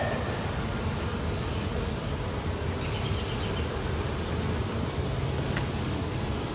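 A dense, steady buzzing drone of many honeybees at a hive, continuous and fairly loud throughout, with no voices.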